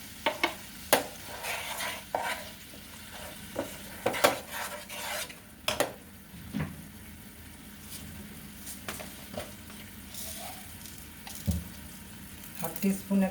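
Turmeric-and-salt spice masala for a traditional Bengali fish dish is stirred and fried in a pan, with a soft sizzle under repeated sharp clinks and scrapes of a utensil against the metal, close and irregular.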